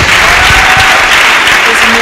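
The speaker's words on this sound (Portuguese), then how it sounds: "Salva de palmas para Jesus." Audience applause following a church theatre play, a dense, loud wash of many hands clapping together, steady and close for about two seconds.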